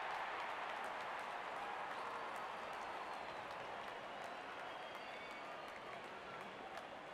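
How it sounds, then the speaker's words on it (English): A stadium crowd in the cricket video game RC24 cheers as the openers walk out, a steady, distant wash of applause and crowd roar with faint commentary-like murmur underneath throughout. "the crowd cheering in anticipation"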